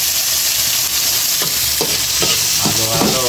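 Tomato and onion are stirred in a hot frying pan, giving a continuous sizzle with a few scraping stirs toward the end and no talking.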